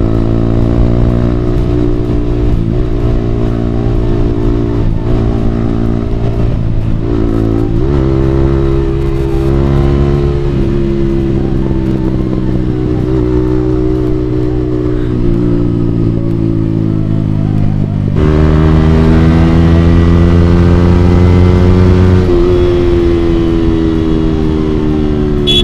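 A motorcycle engine hums steadily while riding on a road toward hills, its pitch stepping up and down with gear changes and throttle over about 25 seconds, loud and close with wind rush.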